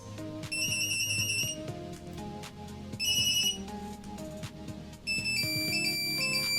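A Nokia 3310 phone ringtone plays a repeating tonal melody in several phrases, bright electronic tones over a lower synthesized backing, steady and clear.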